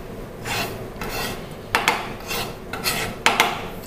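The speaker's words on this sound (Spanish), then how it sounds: "Y el tomate lo voy a cortar en pedazos grandes." A knife cuts a tomato into large pieces on a board with a few short rasping strokes, each ending in a light tap of the blade, close and clear with no talk.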